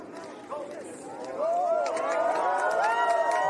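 Spectators at an LPGA golf tournament cheer and roar in a swelling wave as a shot lands, a dense crowd sound rising and holding steady, with commentary voices running underneath.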